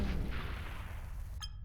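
A bomb blast from the video game People Playground lands as a loud, booming rush of noise that slowly decays, ending with a faint metallic click.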